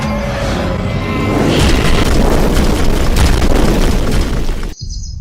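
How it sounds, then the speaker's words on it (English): Meteor shower explosions in a video game trailer: a dense, continuous roar of deep booms and crashing bursts swells loudly, then cuts off abruptly near the end. "A massive meteor shower."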